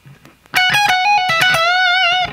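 An electric guitar lick through distortion plays sustained bent notes with a slight warble, loud and close, starting after a short quiet pause and ringing to the end.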